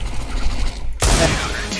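Gunfire in Counter-Strike: Global Offensive, a sudden loud burst cutting in partway through after steady game ambience and fading into a noisy tail.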